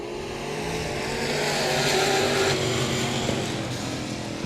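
Limited late model race cars roar around the South Texas Speedway track in a heat race, a dense multi-engine drone that swells and fades as the cars pass, no voices.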